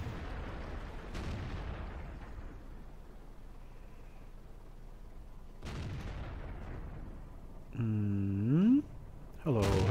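Tank cannon fire in World of Tanks, aimed at a Hetzer from an SU-85B: heavy booming shots with long rumbling tails over continuous engine and battle noise, followed by a rising whining game effect.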